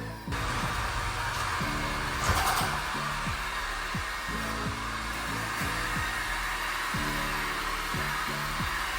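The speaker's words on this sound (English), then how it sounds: "Let's just fire up this heat gun and get to work." A heat gun runs steadily at close range, loosening the glue on a Mach 1 rear spoiler, with its constant airy whir and motor hum under faint intermittent clicks.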